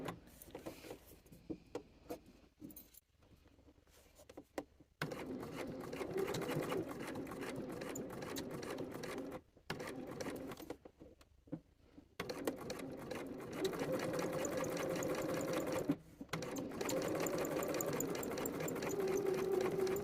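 A sewing machine stitches where a shirt sleeve placket joins the sleeve, running in steady bursts with short pauses between runs, close and fairly loud, with no talking.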